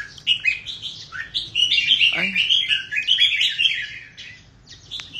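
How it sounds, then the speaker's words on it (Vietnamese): Pet songbird, a red-vented bird in its third season, chirping and trilling in a quick, continuous run of bright, close calls, with a faint murmur of low background noise underneath. "Đây quay cho anh em xem chim luôn"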